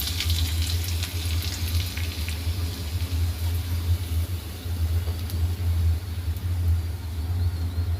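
Spices for tempering sizzle and crackle steadily in hot oil for a sweet pumpkin ghati, a continuous close frying hiss with a low rumble underneath and no talking.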